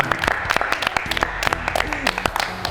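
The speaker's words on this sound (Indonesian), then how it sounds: "Oke, kasih tepuk tangan." Applause from a church youth gathering, scattered claps sounding loosely in an indoor room, with voices and chatter mixed in underneath.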